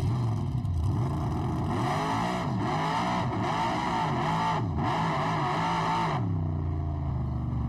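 Small-tire drag racing car roaring hard down a race track at full power, engine pitch climbing and stepping through repeated surges in a loud, continuous, close pass with no talk.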